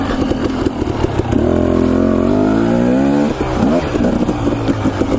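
Enduro dirt bike engine on a trail, loud and close, revving up through a rising pitch, dropping briefly, then climbing again with choppy throttle blips.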